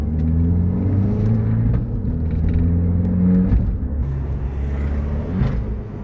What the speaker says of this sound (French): le bruit quand elle rétrograde